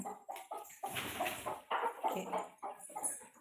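Several chickens cluck and murmur nearby in a busy, continuous chatter, with short overlapping calls rising and falling.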